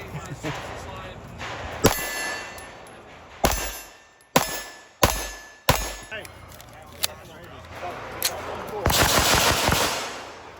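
Custom-built, ported 2011-style pistols firing outdoors in mountain terrain: a handful of sharp, loud cracks spaced a second or so apart, followed by a rapid cluster of shots, with metallic ringing between.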